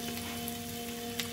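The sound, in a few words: potatoes and onions frying in a wok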